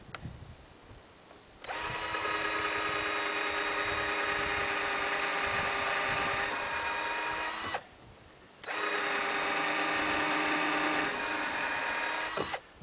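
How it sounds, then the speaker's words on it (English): A power drill driving into tough wood from a pallet whirs steadily at high speed for several seconds, stops briefly, then starts again, loud and close with no talking. "we get Mr. Drill out because this is some tough wood."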